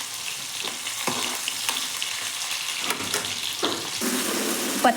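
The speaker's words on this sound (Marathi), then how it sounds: "आता मोहरी टाकून घेऊ, जिरे, हिरवी मिरची पण टाकून घेतली आहे." Mustard seeds, cumin and green chillies sizzling in hot oil in a kadhai, a continuous close crackling hiss with a few sharper bursts and spatters, no voices.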